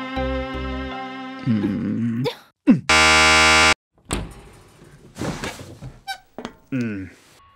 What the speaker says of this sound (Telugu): బజర్ సౌండ్ వినిపించింది